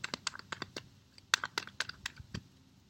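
Tarot cards are shuffled in a quick run of crisp, irregular clicks and snaps, close by and fairly quiet.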